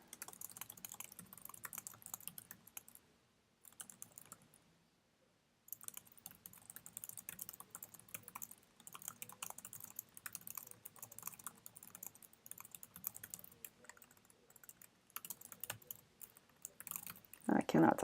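Rapid, irregular clatter of fingers typing on a computer keyboard, with bursts of keystrokes, a brief pause, then more typing that ends in a few louder taps.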